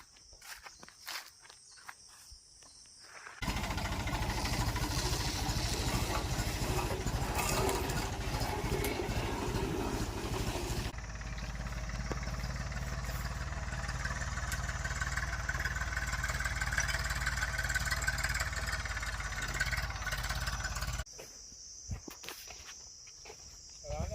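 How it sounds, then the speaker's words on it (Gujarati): A farm tractor with a 20-foot pole tied behind it rumbles steadily as it drags the pole across a field, running for most of the stretch with chirping crickets before and after. "આ છે આપણું ટ્રેક્ટર અને આની પાછળ થાંભલો ઢેડવાનો છે"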